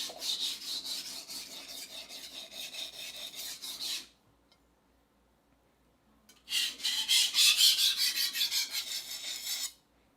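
A steel knife stroked across a 300 grit sharpening stone, close and rhythmic, with rapid repeated rasping passes for about four seconds, a quiet pause, then another fast run of strokes.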